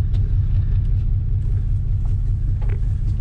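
An old Ford Flathead V8, left sitting for 42 years, rumbles steadily while the car drives, a deep, loud, continuous low engine drone with faint mechanical rattles over it and no talking.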